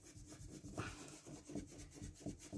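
A drawing of a dream catcher is rubbed to blend colour from purple into orange, making soft, rhythmic scraping strokes at close range and low volume, with no talking.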